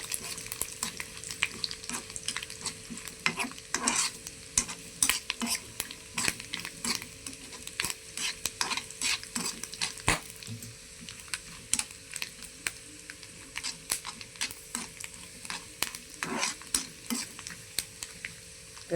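Coconut and raisins sizzle steadily frying in a pan while a utensil scrapes and stirs with frequent sharp clicks, close by and fairly quiet.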